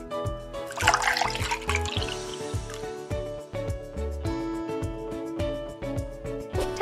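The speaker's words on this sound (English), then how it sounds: "Now let's soak the feet and relax." In a children's spa game, cartoon water splashes and trickles for soaking feet, heard as bright bubbly pouring over a steady, rhythmic music track.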